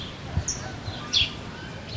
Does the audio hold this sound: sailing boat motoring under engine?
no